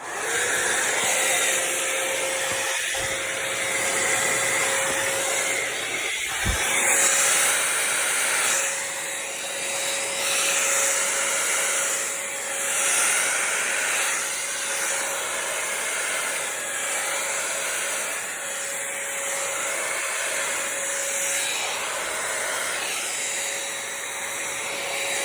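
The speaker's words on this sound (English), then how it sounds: "So now I'm going to go ahead and blow the paint with my hair dryer" A small hair dryer blows steadily at close range across paint on eggs, a continuous airy whoosh lasting throughout with a faint steady whine and a couple of brief knocks.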